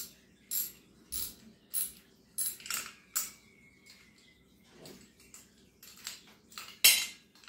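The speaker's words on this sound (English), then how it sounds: "And we'll add the washer and the nut." A metal washer and nut being fitted onto an arcade joystick: a series of close, sharp metallic clicks and clinks at irregular intervals, with a faint scrape between them.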